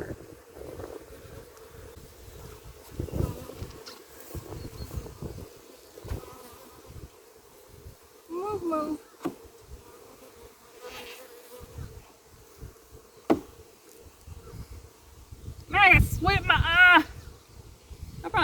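Bees from a freshly installed bee nuc buzz continuously and close, with bursts of wind rumbling across the microphone and people talking intermittently over the swarm.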